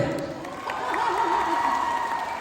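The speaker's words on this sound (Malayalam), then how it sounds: "ഒരു നല്ല കൈയടി കൊടുത്തേ" An audience applauds at a film trailer launch event, a dense patter of clapping with some crowd noise, moderately loud and continuous.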